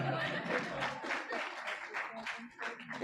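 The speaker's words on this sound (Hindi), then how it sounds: "ताली थोड़ी बजाया करो" Audience clapping at a Hindi kavi sammelan poetry recital on New Year 2025, a steady dense round of applause running the full length, fairly close and loud with murmuring voices mixed in.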